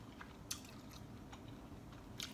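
Shrimp dipped in sauce being chewed at breakfast, with soft, faint crunching and a few sharp bites spaced through the quiet.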